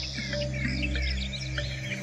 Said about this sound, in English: Countless species of bird rely on this habitat for all or part of their lives, and in times of plenty, the wetlands are alive with birds